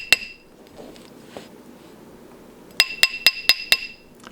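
Sharp metallic hammer taps ring out on a metal stacker ring held on a steel mandrel, one isolated strike early on, then a rapid run of five bright clinks near the end over a quiet background.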